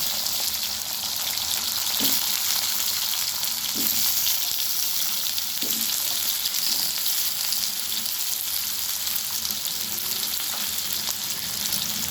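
Potatoes fry in hot oil tempered with cumin seeds, slit green chillies and bay leaf, giving a steady, close sizzle throughout with a few soft stirring knocks from a spatula.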